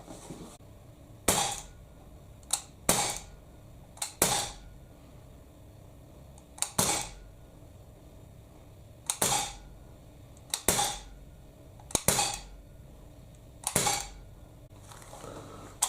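A Gamo C15 CO2 blowback air pistol fires semi-auto, about a dozen sharp, loud cracks spaced irregularly, sometimes in quick pairs, with each shot's snap and blowback clack standing clear against a quiet outdoor background.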